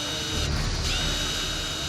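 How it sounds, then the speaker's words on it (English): A brand new drill, set up by a technician, runs steadily and loudly for about two seconds, a continuous whirring mechanical drone with no talk over it. "This is a brand new drill"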